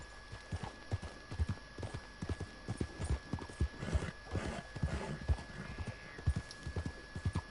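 Horse hooves clip-clop in a Red Dead Redemption game world, a steady stream of close, sharp hoofbeats in an uneven trotting rhythm over a faint electrical hum, with a soft whinny in the mix and no talk.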